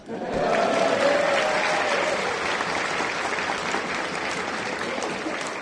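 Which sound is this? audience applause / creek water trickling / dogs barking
audience applause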